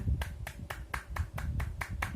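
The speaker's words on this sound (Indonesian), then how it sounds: "Beri tepuk tangan dulu untuk Rani dan Bayu." Applause for Rani and Bayu after a role-playing demonstration, about nine claps in a steady rhythm, close and moderately loud, with no talking.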